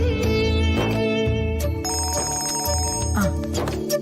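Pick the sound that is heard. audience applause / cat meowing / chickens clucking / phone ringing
phone ringing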